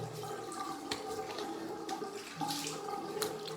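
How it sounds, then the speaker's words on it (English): Running water splashes steadily while someone rinses off after a straight razor shave at a bathroom sink, a continuous close wash with small splashy bursts throughout. "Just have a rinse there"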